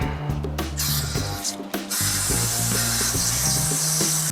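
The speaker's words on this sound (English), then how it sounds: "I'm gonna spray the float valve out" A forceful aerosol spray of carburetor cleaner hisses in several bursts into a leaking carburetor's float valve, close up, with brief pauses between them.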